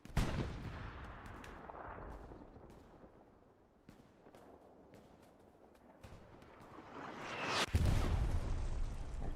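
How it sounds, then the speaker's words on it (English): Artillery fire and a bombing run in the Hell Let Loose video game: scattered distant booms and thuds with a rumbling tail, swelling to a heavy, loud blast and roar toward the end. "Artillery still managing to rein in."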